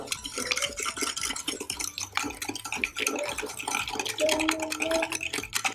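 Cake batter for a one-egg cake is whisked briskly in a bowl, making a fast, continuous rhythmic scraping and tapping that stays close and fairly loud throughout.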